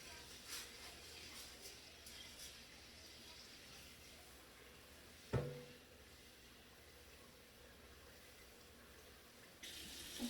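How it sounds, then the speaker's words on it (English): Soft, steady running water from a tap, faint and continuous, with a brief clunk partway through, while rice is rinsed. "You'll hear the water running as I do."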